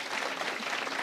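A short burst of audience applause, dense and continuous, with a crowd clapping together at moderate level for about a second.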